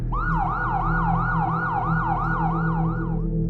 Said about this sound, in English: Then we heard sirens blaring in the distance.